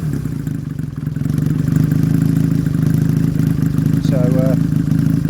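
A Honda CX500 motorcycle engine runs loud and close with a steady, throbbing mid-pitched beat that builds slightly in the first second, while a voice speaks briefly near the end.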